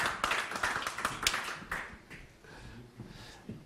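Audience applause for a singer on the Serbian TV show Planet Show, dense clapping that peaks early, then thins and fades into scattered claps.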